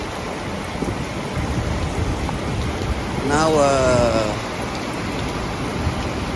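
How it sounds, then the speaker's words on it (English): Steady rain falls on a road in Dammam, Saudi Arabia, a dense continuous hiss with a brief voice speaking over it midway. "That's why you see more raining."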